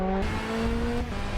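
Front-wheel-drive BTCC touring race car with a naturally aspirated SR20 engine launching off the line in a racing video game, a loud sustained engine roar with rising tonal whine, no talking over it.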